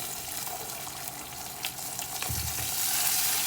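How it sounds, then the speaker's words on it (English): Steady sizzling of tortillas frying in oil for enchiladas, a continuous crackling hiss with small pops, close by and with no voices. "So in the meantime, we're frying our tortillas."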